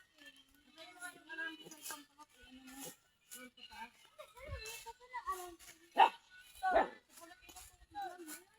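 Dog barks, two sharp loud ones near the end, mixed in with people talking close by, outdoors around a hut.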